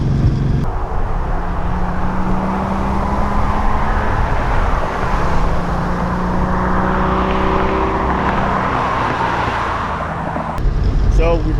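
A Mazda RX-7 swapped with a 2JZ engine drives through bends, its engine drone loud and continuous with rising and falling pitch as it accelerates, running steady for the whole stretch.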